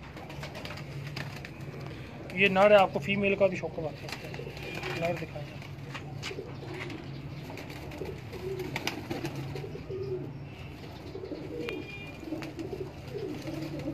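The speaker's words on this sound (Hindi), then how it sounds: "ये भाईजान 35 वाले कबूतर हैं जी, बटेरा कबूतर कह ले हम इन्हें" Male 35 wale (batera) pigeons at a breeder's loft in Delhi Gate, Lahore, giving a few low burbling coos near the start, with someone talking throughout.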